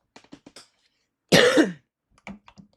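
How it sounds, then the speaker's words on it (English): A single loud, harsh throat clearing bursts out for about half a second, with a few soft clicks and small mouth noises before and after. "Let me clear my throat."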